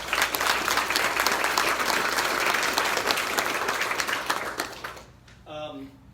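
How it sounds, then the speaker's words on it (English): A crowd applauds at a bank ribbon cutting, steady dense clapping that stops abruptly near the end, followed by a brief voice. "So let's give them a round of applause."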